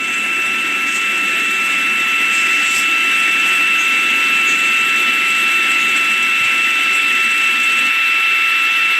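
A rocket climbs during launch on its RD-180 engine, giving 860,000 pounds of thrust, a loud, steady, continuous roar with a high whining tone over broadband rumble, unbroken throughout.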